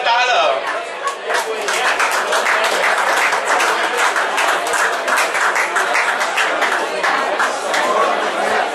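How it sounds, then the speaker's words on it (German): A crowd applauds race winners at an outdoor award ceremony for a speed-up race, with steady clapping that fills the whole stretch and voices chattering underneath. "Einen Applaus für unsere Sieger der Klasse Herren 6."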